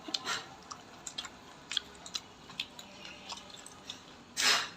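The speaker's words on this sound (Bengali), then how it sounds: "এই যে আমার মুড়ি আমি মাখিয়ে খাচ্ছি এখন" Spicy puffed rice mixed with tomato being eaten close up, soft crunchy chewing bites in an irregular rhythm with a louder crunch near the end, no talking.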